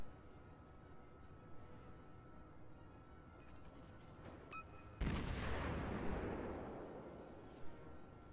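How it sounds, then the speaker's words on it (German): A warship's guns fire in the World of Warships naval battle game, a sudden heavy boom that rolls into a long roaring decay over steady background battle ambience, with faint distant shots before it. "Und jetzt schieße ich zurück."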